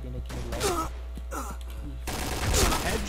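Rapid bursts of gunfire in a first-person shooter match, including a headshot kill, crackling loud over a steady low hum with a brief voice-like sound mixed in.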